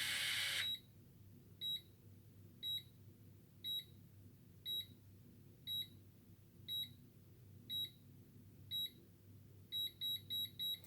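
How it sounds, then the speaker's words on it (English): Hair curler timer sounds a series of short, high electronic bleeps at a steady one-per-second rhythm, ending in a quick cluster of rapid beeps, over a low background hum after a brief burst of noise at the start. "you're going to hear the bleeps of how long I've got it on for"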